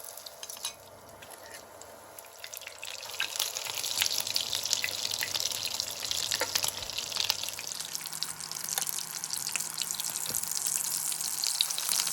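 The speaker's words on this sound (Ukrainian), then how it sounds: "Бризолі кладу у яйце, обмакую з двох сторін і викладаю на пательню." Egg-dipped waffle brizol filled with minced meat sizzles steadily in a frying pan, a dense, continuous crackle and hiss of hot oil that grows a little louder partway through, with no voices.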